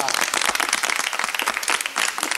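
A television studio audience claps on a Polish talk show, a brisk, close burst of many hands with slight fluctuations and a brief dip near the end.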